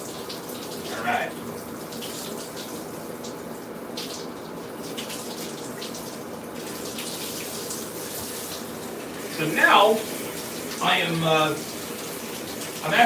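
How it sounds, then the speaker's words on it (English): A shower attachment rinses dye out of a beard with a steady hiss of running water, while someone talks briefly near the start and more toward the end, his voice louder than the spray. "I'm using the attachment on the shower with a straight line, a little more pressure, just to get it all out of here."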